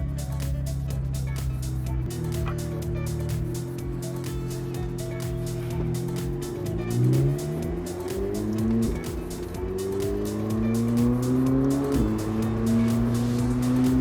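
Roofless McLaren Elva sports car on the Sepang circuit, its engine droning loud and close with rising and falling revs through gear changes, steady wind roar behind it and no talk.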